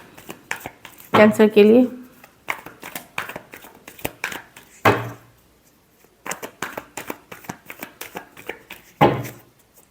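Tarot cards are shuffled by hand in short bursts of riffling and soft slaps, close and crisp. Someone speaks briefly between the bursts.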